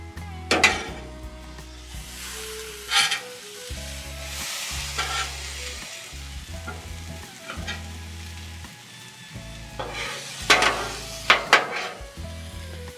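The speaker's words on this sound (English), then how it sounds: "Let's give it a stir." Chicken and vegetables sizzling on a Blackstone griddle while a metal spatula stirs and scrapes, giving a steady fry hiss broken by repeated sharp clanks and scrapes, close and clear with no talking.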